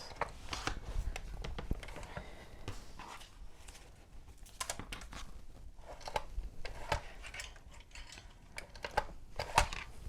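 Wire binding coils on a handmade desk calendar being pressed closed, giving a run of sharp, close clicks and crunches in an irregular rhythm with no talk.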